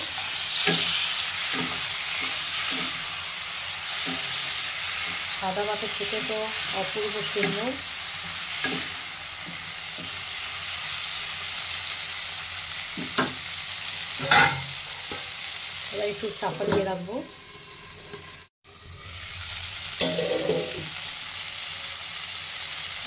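Small morola fish sizzle with whole green tomatoes in a hot pan, a continuous frying hiss punctuated by stirring scrapes and a brief lid clatter, while someone talks over it.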